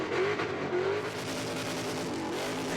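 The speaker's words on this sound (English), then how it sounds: "That limiter has been copping an absolute smashing for the last few seconds." A drag car at a burnout competition at Sydney Dragway, its engine hammering against the rev limiter mid-burnout with heavy tyre smoke, a loud, sustained, rasping roar with little letup, close up.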